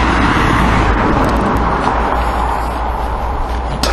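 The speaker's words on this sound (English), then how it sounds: "There's the black rock lorry that I saw yesterday." A heavy lorry passes on a road beside someone walking, making a loud, steady, close rumble and rushing roar of engine and tyres that fills the whole stretch without a break.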